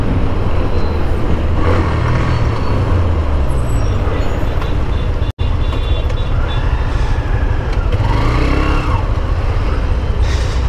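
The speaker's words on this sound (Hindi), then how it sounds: "ट्रैफिक बहुत ही ज़्यादा हो रहा है, हद से ज़्यादा ट्रैफिक हो रहा है" Heavy road traffic heard from a Hero Xtreme 125R motorbike on a long ride: a constant loud roar of engines and wind, with heavy vehicles droning past and a brief air-brake hiss rising through the dense noise.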